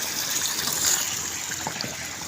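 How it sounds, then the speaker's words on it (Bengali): Rice being washed by hand in a pot of water, with close, continuous sloshing and splashing, a brief louder swirl partway through and no talking. "সুন্দরভাবে চালগুলো ধুয়ে নেওয়া হচ্ছে।"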